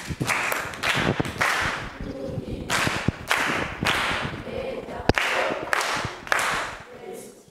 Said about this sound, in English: Class, clap hands for Tatu Saidi.